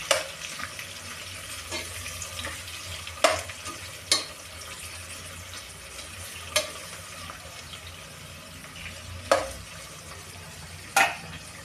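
Four large onions frying in a pressure cooker until reddish, for chicken biryani: a steady soft sizzle with occasional sharp scraping clicks as they are stirred, fairly quiet and without talk.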